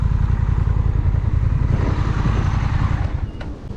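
A motorcycle engine idles nearby with a loud, steady low throb, then dies away as the ignition is switched off near the end.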